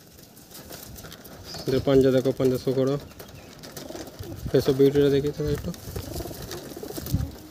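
Punjabi Malbai pigeons being shown at a loft coo in two bursts of throaty calls, close and fairly loud, while someone talks over and between them.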